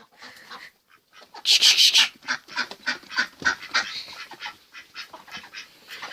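Farm ducks call in a rapid series of nasal quacks and honks, moderately close, in irregular bursts, with a loud cluster in the middle followed by steadier repeated calls.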